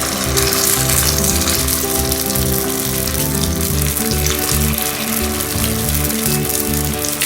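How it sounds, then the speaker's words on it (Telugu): Gunta ponganalu batter drops into hot oil in a Rayalaseema-style paniyaram pan, producing a loud, dense, continuous crackling sizzle with a low steady hum beneath it. "ఇప్పుడు ఆయిల్ కాగింది. వీటిని ఇలా కొంచెం కొంచెంగా వేసుకోండి"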